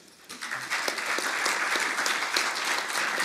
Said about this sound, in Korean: 여러분, 기조연설 박수로 청해 주시죠.